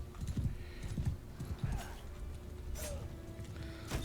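Horse hooves gallop in Mount & Blade II: Bannerlord, a rapid, uneven clip-clop of low thuds close by over steady game ambience, with a few sharp high swishes late in the run.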